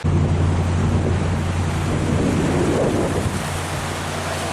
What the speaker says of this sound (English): Sound of the water and the sight of the water is very nice, though.